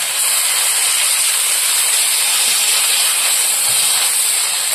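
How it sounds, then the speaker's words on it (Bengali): Water pours into a hot pan of sautéed curry with live catla fish and potato, making a loud, steady hiss and sizzle of steam throughout. "ভালো করে কষিয়ে নিয়েছি, এবার জল দিয়ে দেবো।"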